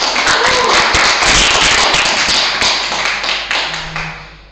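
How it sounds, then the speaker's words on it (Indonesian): Students in a classroom clap for their classmates, a loud burst of mixed hand claps that starts dense and gradually thins and fades toward the end, with a faint voice near the close. "Tepuk tangan dulu untuk teman-teman."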